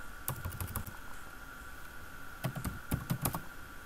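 Keyboard typing while writing Python code, two quick bursts of close keystrokes separated by a short pause, over a steady electrical hum.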